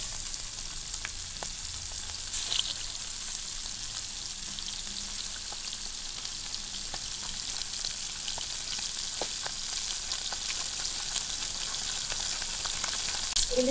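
Hilsa fish with green banana sizzles steadily in a hot pan, a continuous close frying hiss with faint stirring clicks and no talk.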